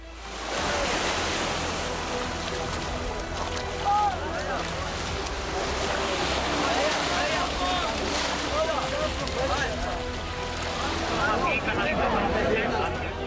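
Rough sea surf where people cross from Morocco into Spain at Ceuta, a steady loud wash of waves and wind rumble across the whole stretch, with crowd voices and shouts mixed in beneath.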